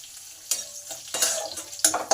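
Ginger, cumin, green chili and asafoetida fry in a pan with a steady close sizzle, rising in louder bursts as the spices are stirred.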